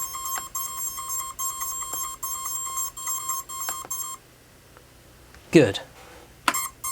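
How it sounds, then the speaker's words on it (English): A drone flight controller beeper gives a rapid series of sharp electronic beeps for a few seconds and then stops. A brief voice is heard, followed by some handling noise. "Beeper's working"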